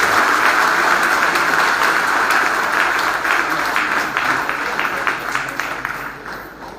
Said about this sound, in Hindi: आप जोरदार तालियों के साथ उनका